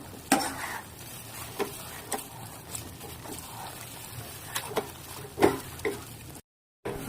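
Dates being stirred into a khoya mixture in a pan over a very low flame, with soft scraping and intermittent clinks of a spoon against the pan and a faint sizzle throughout, close and quiet.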